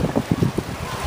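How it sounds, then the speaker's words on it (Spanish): Wind buffets a microphone on a boat at sea, giving a steady low rumble with a few gusty thumps, loud and close, with no voices. "Está ventoso hoy."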